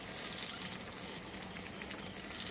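Eggplant slices fry in hot oil, a close, continuous fizzing sizzle with light bubbling crackles and an occasional stir, no talking.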